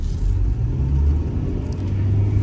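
A 1995 Honda Integra SiR-G with a 1.8 VTEC engine and manual gearbox driving along, heard from inside as a steady, loud low engine and road rumble that continues throughout, with no voices.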